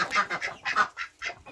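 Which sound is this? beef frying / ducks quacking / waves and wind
ducks quacking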